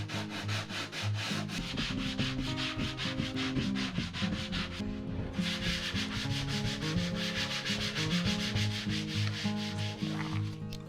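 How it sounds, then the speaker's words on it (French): Wall filler being sanded by hand during a cupboard and drawer build, a loud continuous rhythmic rasping of brisk back-and-forth strokes with a brief pause midway, close to the microphone. "Bon, le ponçage est terminé"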